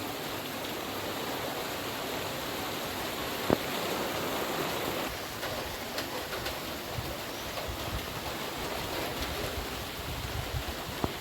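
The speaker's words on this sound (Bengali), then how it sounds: "বাইরে তো বৃষ্টি হচ্ছে" Steady rain falls outdoors in the Sundarban region, a continuous even hiss at moderate level with no talk, broken only by one faint sharp click partway through.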